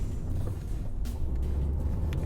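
A 2020 Fiat 500 with a 0.9-litre two-cylinder TwinAir petrol engine driving on country roads, steady low engine and road rumble heard from inside the car, with a brief gear-change pause.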